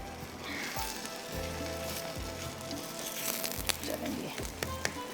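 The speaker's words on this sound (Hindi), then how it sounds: "तो मैंने सोचा क्यों ना यहाँ पे पराठे भी हम थोड़े से फ्राई कर लेते हैं" Parathas frying on a stove: a continuous soft sizzle of oil with occasional crackles and pops, quiet and close, as a low, rhythmic background hum repeats underneath.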